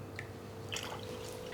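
Thickened cream, milk and cold water poured into a bowl of scone mix, giving a soft, brief wet trickle and drip over a steady low background hum, with no talking.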